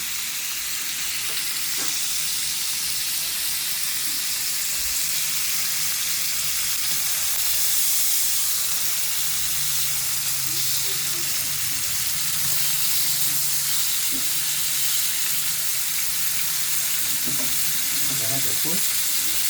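Steaks frying in a pan with garlic, a dense continuous sizzle held at an even level close by, with a few faint utensil taps toward the end.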